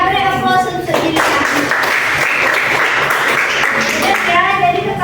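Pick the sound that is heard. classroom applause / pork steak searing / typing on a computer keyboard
classroom applause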